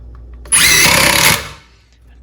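A loud, rapid burst of hammering as a Metabo HPT triple-hammer impact driver drives a screw, lasting about a second before cutting off and fading to quiet.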